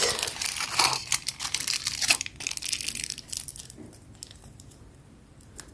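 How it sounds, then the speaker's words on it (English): Aluminium foil crinkles and crunches as it is wrapped around an acrylic nail, a close, busy run of crackling that thins out and fades toward the end. "Then I'm going to take some foil paper, just like so,"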